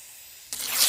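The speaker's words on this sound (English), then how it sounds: "I'm going to be using this beautiful Coastal Sage spray paint in the matte that I had in my stash and give it a nice coat" A can of matte Coastal Sage spray paint bursts into a steady, close hiss halfway through, following quiet room tone, and the spray grows louder toward the end.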